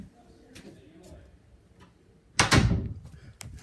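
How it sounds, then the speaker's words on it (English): A door shuts with one loud thud after a few faint ticks and clicks. The sharp slam rings briefly, then dies away into a quiet room. "The goddamn door."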